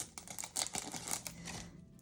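Small Barbie scissors snip knitting yarn threads close by, a quick run of light crisp cuts and clicks, followed by a softer quiet stretch.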